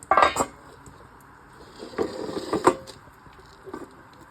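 Metal lid set down over a pot of dry mutton being smoked with ghee: a sharp close clatter at the start, then a few softer metallic clinks and scrapes of cookware, with no talk.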